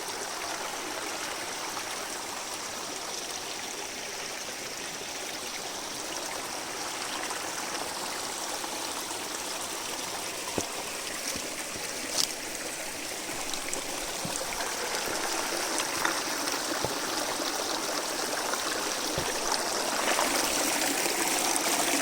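A mountain stream near Chopta rushes in a continuous broadband wash, nearby and fairly loud, growing slightly louder over time, with no voices.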